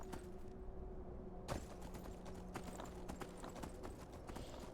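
Horse hooves clip-clopping during riding in modded Skyrim, a steady rhythmic trot of game footfalls at low level under faint background sound.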